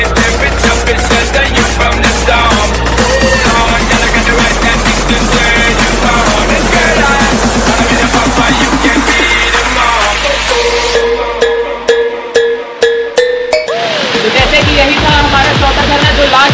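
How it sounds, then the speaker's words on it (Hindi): Waterfalls in Ramgarh, Jharkhand pour down with a loud, steady, close rush of falling water, broken near the end by bumps and rustling. "यहाँ पे देखें दोनों साइड के झरना में पानी गिर रहा है"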